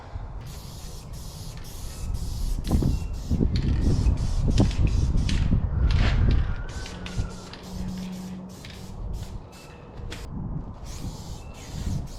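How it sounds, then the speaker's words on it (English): A hand-held rattle can of spray paint with a broken nozzle hisses in several bursts, loudest in a long spray near the middle, with short pauses and quieter hissing toward the end. "Not too bad with a broken rattle can of paint."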